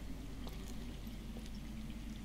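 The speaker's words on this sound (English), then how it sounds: "I hear water from underground." Water flowing underground in a Game of Thrones video game: a faint, steady trickling and pouring wash with a low rumble beneath and a few soft drips, heard alone without speech.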